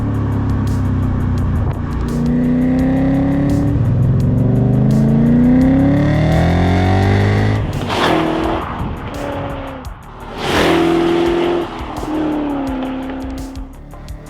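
A BMW E39 M5 driving hard, its engine revving and pulling up through the gears with rising and falling tones, loud and close, with brief tire squeal and shifts between.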